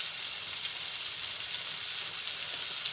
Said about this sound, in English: Just want to sear.